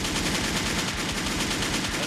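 Rapid gunshot sound effect, a dense continuous burst of loud automatic-style gunfire filling the whole stretch with no pauses.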